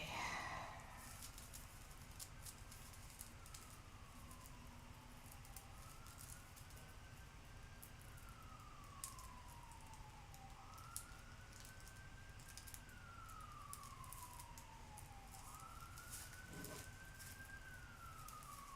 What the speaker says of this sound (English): sure those sirens are coming in loud and clear for y'all